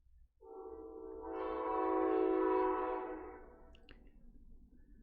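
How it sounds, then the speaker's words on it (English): A passing train heard from indoors sounds a long sustained horn that swells to a loud peak and then fades, with low rumble underneath and a faint clatter toward the end. "We'll just wait out the train and redo this paragraph."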